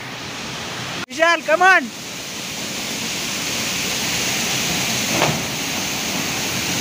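Water rushes steadily at a hidden waterfall near Phaltan, a soft, constant roar in the background, briefly interrupted early on by a short spoken phrase.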